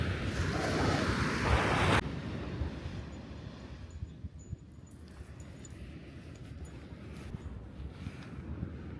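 Ocean waves washing onto a beach in Western Australia, a continuous soft surf wash with wind buffeting the microphone, loudest during the first two seconds and then quieter and steady.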